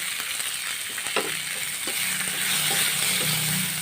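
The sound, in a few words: tomato frying with onions in pan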